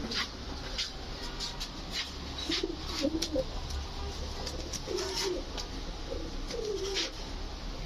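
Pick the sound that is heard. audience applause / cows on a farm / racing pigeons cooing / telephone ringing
racing pigeons cooing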